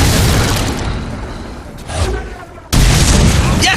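Cannons boom in a Fable 3 battle, a heavy rumbling roar that fades to a quieter swell before a sudden loud blast erupts again, with shouting voices mixed in.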